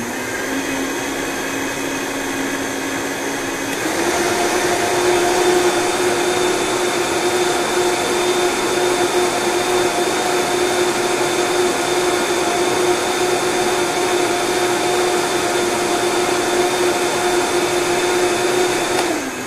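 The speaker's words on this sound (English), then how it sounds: "you just blend it in a high speed blender and it just gets combined and frothy and beautiful" High speed blender whipping bulletproof coffee in a coffee shop workshop, a loud steady motor whine that steps up in pitch after a few seconds and runs on continuously, no talk.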